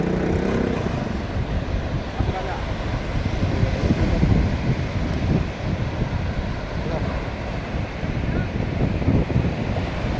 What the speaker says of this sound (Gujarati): મોજા બહુ મસ્ત આવે છે.